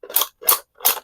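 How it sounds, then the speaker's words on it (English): Three short, sharp mechanical clicks from a Nerf N-Series blaster being primed, evenly spaced and close up, with no talking. "Pushing it forwards is fine, has that nice click."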